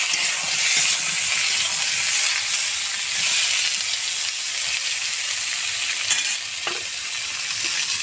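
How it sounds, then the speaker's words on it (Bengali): Ridge gourd slices frying in hot oil without salt or turmeric, a steady loud sizzle and crackle that fills the whole stretch, with faint stirring clinks now and then and no talk. "মাছের ঝোলে ঝিঙে দেব, তার জন্য ঝিঙেটা আমি ভেজে নেব।"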